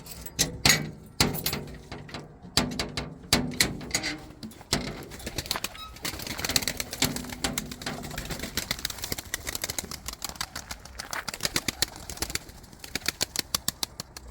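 Pigeons coo softly amid a busy flock, with scattered wing flaps and sharp clatters, ending in a quick series of rhythmic taps.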